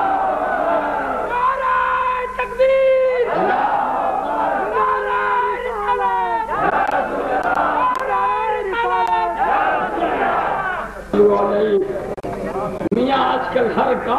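A large crowd at a 1990 religious conference roars the takbir slogan back in loud, sustained waves of massed chanting voices, with swelling and overlapping shouts and a brief dip before the chant surges again.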